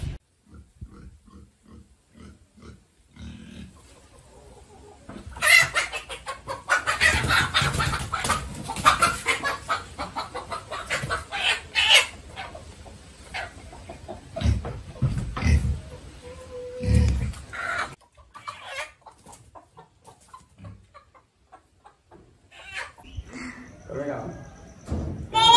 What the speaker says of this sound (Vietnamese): Gọi bố Miền dậy làm thịt gà đi con